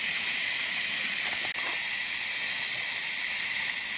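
A live steam injector on a 7.25 inch gauge GWR 14xx class locomotive gives off a loud, continuous, close hiss that holds steady throughout, with one brief click partway through.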